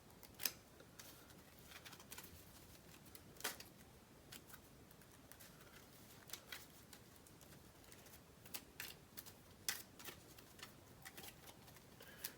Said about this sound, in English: Just give it one more shuffle.